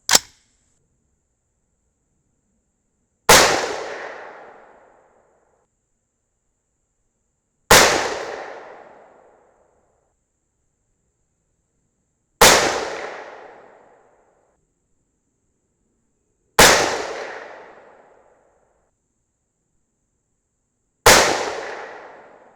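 Five sharp rifle shots from a 6mm rifle loaded with 29.0 grains of Reloader 17, evenly spaced about four seconds apart, each a loud crack followed by a short decaying echo, with near silence in between.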